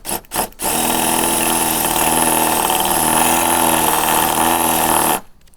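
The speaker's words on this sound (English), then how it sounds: "I'm going to try to drill this thing out." A power drill bores out a hard metal screw, a couple of short bursts and then a loud, steady high whine held for about four and a half seconds before cutting off.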